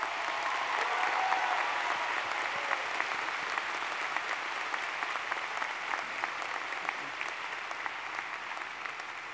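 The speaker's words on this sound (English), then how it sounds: "give the senior class a round of applause" Steady applause from a graduation audience honoring the senior class at a 2022 high school commencement, a dense, even patter of many clapping hands sustained throughout without speech.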